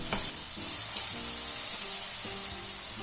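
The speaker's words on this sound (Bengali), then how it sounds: "এবার এই তেলের মধ্যে দিয়ে দিচ্ছি সর্ষে, নারকেল, কাঁচা লঙ্কা আর পোস্ত পেস্ট করে রেখেছিলাম, সেই পেস্ট।" Mustard, coconut, green chili and poppy seed paste sizzles steadily in hot oil in a Bengali pointed gourd curry, with a continuous loud frying hiss and occasional stirring scrapes throughout.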